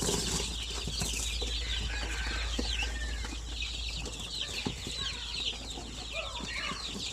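Native chickens clucking together on a farm, with busy overlapping calls and occasional wing flaps at a steady moderate level over low background rumble.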